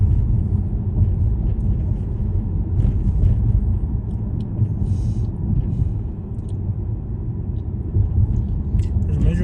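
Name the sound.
car driving through neighborhoods at night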